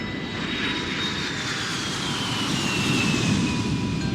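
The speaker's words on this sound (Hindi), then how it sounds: "जहाज के उड़ते ही गांव के लोग जहाज की आवाज को सहन नहीं कर पाते थे।" A propeller airplane engine drones steadily as the plane takes off from a village airport, a continuous loud broadband roar with a faint whining tone, heard alone without voices.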